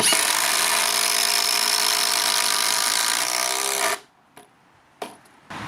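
A 36 volt impact driver drives a 14 gauge, 100mm long 316 stainless steel batten screw into timber in one loud, sustained whirring and hammering burst that stops suddenly, followed by a few brief clunks.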